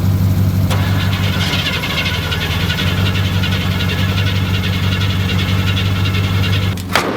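A Duramax diesel truck with a weak, misbehaving battery runs in a loud, steady low drone that holds close and even throughout, with a brief sharp burst near the end.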